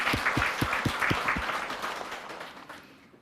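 A church congregation applauding, a burst of many hands clapping that fades away over a few seconds.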